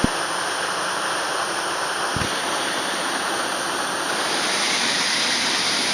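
A waterfall in Kanchanaburi, Thailand roars close by, a loud continuous broadband rush of falling water that stays even throughout, with a brief thump early on.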